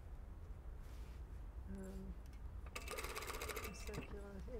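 A sewing machine runs in bursts while a puff sleeve is stitched into a shirt armhole, starting softly and then whirring louder and steadily over the last part, with a voice talking over it.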